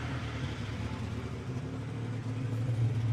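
A first-generation Mitsubishi Montero engine, running a touch rich, hums at a steady mid-pitched idle that swells slightly toward the end, close and continuous with no talk.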